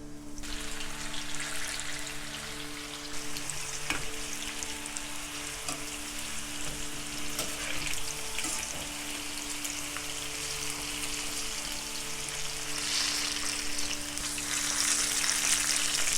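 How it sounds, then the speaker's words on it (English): Green beans deep fry in oil with a constant crackling sizzle, heard close and steady, brightening toward the end as more bubbling rises, with a faint musical tone running beneath. "Take one bean at a time and add it."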